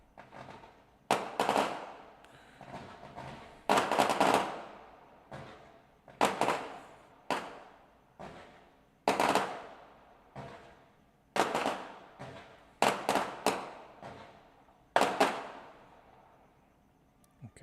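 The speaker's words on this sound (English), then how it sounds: "Yes, that was fireworks if you were curious. Not gunshots." Fireworks going off outside in the week before the 4th of July: a string of sharp, loud bangs and cracks, some doubled, spaced every second or two with short decaying tails and no talking.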